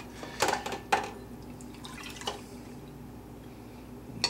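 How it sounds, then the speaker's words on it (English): Buttermilk from freshly churned homemade butter drips and splashes into a glass in a few short close bursts, then trickles faintly before a final small splash. "I'm just squishing all those clumps together so I can pour that butter off, or that buttermilk off"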